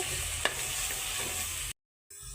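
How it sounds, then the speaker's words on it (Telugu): Ground masala sizzles as it roasts in ghee in a pan for stuffed eggplant curry, a steady close frying hiss with a faint scrape, cutting to silence briefly before resuming. "మనము మిక్సీ పట్టుకున్న మసాలాని అయితే వేసేసుకుందాము. వేసేసి వీటిని బాగా రోస్ట్ చేసేసుకుందాం. నెయ్యిలో మసాలా బాగా మగ్గాలండి"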